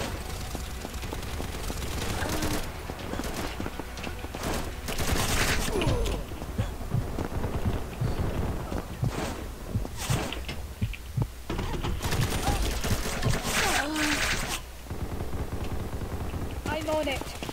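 Bursts of automatic gunfire and rapid shots ring out in the online shooter Combat Master, dense and continuous over several seconds, with game effects and a player's voice talking in between.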